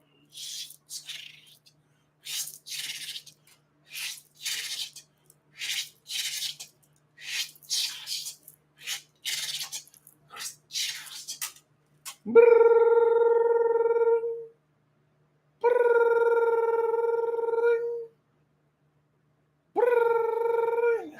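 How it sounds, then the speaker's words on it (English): A rotary telephone is dialed with a run of short, evenly spaced clicking bursts, then a bright, steady ringing tone sounds in three long rings separated by pauses, clear and close with no talk. "He did the rotary phone dial up."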